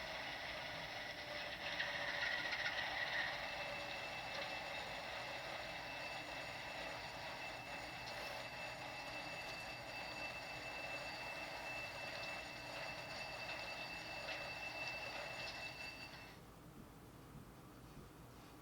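An HO scale Kato P42 locomotive fitted with LokSound DCC plays its shutdown sequence, a steady mechanical diesel hum with a high whine that runs for about sixteen seconds, then cuts off to quiet background.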